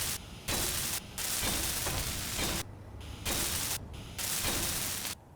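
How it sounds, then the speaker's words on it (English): A welding tool in the game Space Engineers, a harsh hissing static burst that repeatedly cuts in and out in several long blocks, loud and close with no talking. "Let's weld it up, see how it looks."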